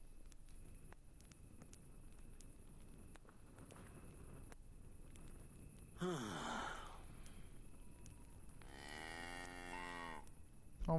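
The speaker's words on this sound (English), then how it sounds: "my god, I love that cow noise though" A cow in the medieval video game Kingdom Come: Deliverance gives two long, drawn-out moos, the second fuller and more tonal, over a quiet ambient background with faint clicks.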